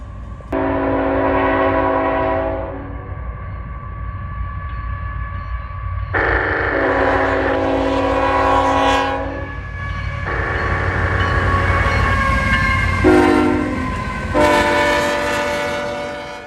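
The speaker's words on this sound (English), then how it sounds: "a CSX southbound steel slab loads and steel coil empties, symboled B522, rounded the curve just north of us" A CSX southbound freight train, B522 hauling steel slab loads and coil empties behind two ET-44AH locomotives, passes close by with a rumbling roll while its loud horn sounds in several long and short blasts.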